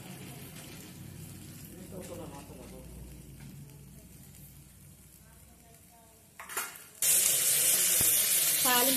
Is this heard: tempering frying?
yes